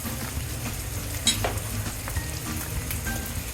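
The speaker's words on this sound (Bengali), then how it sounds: "তেল গরম হয়েছে, দিয়ে দিব পেঁয়াজ কুচি।" Chopped onions sizzle steadily in hot oil in a home kitchen pan while curry is being made, a soft continuous frying hiss with light stirring scrapes.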